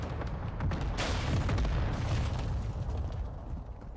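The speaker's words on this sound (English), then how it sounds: "mortar and airstrike, you crazy" Mortar and airstrike blasts in a video game rumble as a dense, continuous barrage of heavy explosions with a louder burst about a second in, with no speech over it.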